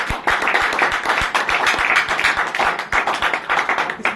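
Loud, close audience clapping at a business meeting, with sharp individual claps audible within a continuous crowd applause.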